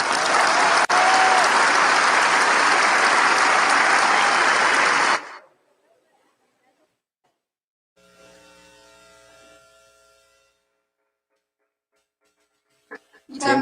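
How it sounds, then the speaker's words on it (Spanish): Loud audience applause welcoming the writer Laura Esquivel at a talk on the 1968 student movement, a dense steady roar of clapping for about five seconds that cuts off abruptly, followed by quieter indistinct sounds. "recibamos con un aplauso a Laura Esquivel"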